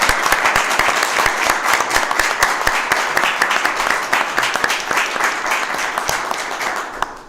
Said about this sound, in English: we've given another round of applause.